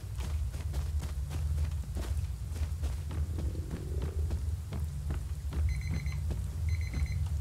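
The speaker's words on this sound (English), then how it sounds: "Freaking timer, man. Always goes off at the bad times." A timer alarm sounds while someone plays a Western-themed game: two short bursts of rapid electronic beeping near the end, over steady game background noise and soft rhythmic thuds.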